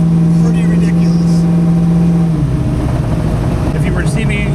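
Cammed 1988 Ford Foxbody V8 with a loud, choppy idle that surges into revs partway through, rough and lopey up close; a voice talks over the engine.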